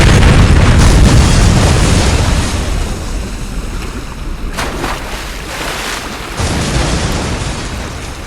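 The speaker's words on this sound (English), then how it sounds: "But surviving this explosion" A large explosion in Saints Row 2 roars out loud and sustained, a heavy rumbling wash that slowly fades, with a couple of sharper bursts cutting through near the end.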